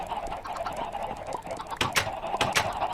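Chickens in Minecraft survival hardcore mode give soft, short clucks over a quiet game background, a few brief calls clustered near the end.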